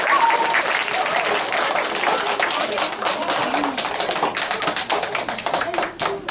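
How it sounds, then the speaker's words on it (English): Enthusiastic audience applause during a historical storytelling performance about Hernando de Soto, a dense steady wash of clapping throughout with scattered individual claps standing out near the end. "Give her a round of applause!"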